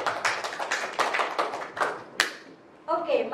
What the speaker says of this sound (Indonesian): Beri dong tepuk tangan untuk para ahli kita.